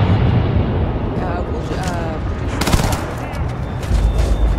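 Rapid gunfire in the video game Starfield, loud bursts of shots and impacts layered with voices talking over the action.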